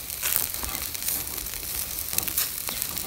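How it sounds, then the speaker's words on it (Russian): Seeded bread roasting over a campfire grill beside shashlik in a frosty winter forest gives off a steady, close, crackling sizzle that runs the whole time with no talking. "И теперь он наравне с шашлыком у меня вот так вот жарится"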